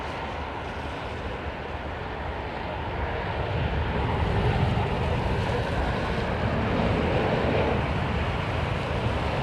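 Jet aircraft rumbling at London Heathrow Airport during heavy snow, a broad loud continuous roar that swells midway through, heard at a distance with no talking.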